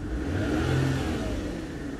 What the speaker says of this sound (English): You can see if I rev it up